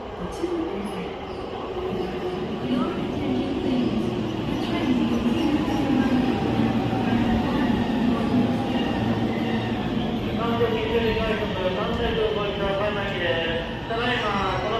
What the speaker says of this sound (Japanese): 1番乗り場に電車が参ります。